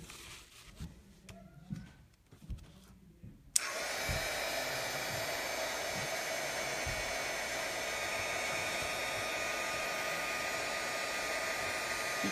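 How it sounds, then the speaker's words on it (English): A heat gun used for embossing in paper stamping crafts blows with a steady, loud broadband whoosh that switches on abruptly after a few seconds of quiet room noise, then runs continuously without pause. "bring over our heat gun."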